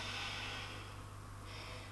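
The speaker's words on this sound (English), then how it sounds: "think about breathing into the back of your ribs" A slow, audible inhale through the nose during a yoga breathing exercise, close and soft, a long airy breath drawn in against quiet room hum.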